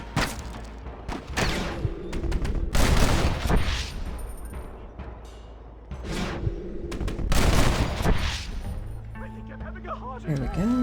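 Repeated gunfire in the Western game Red Dead Redemption, loud cracking shots in clusters with heavy echoing booms, over which voices shout and talk, ending with a tonal music sting.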